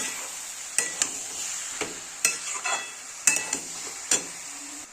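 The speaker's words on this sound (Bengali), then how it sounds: "দেখো বাঁধাকপিটা আবার আমি দিয়ে আবার একটু নেড়ে দেবো ভালো করে।" Cabbage is stirred in a hot pan, a soft background sizzle punctuated by several sharp utensil scrapes and knocks at irregular intervals, near and without voices.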